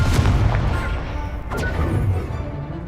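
Spell blasts in Hogwarts Legacy, a flurry of booming impacts and crashing hits, loud and close, overlapping in quick succession.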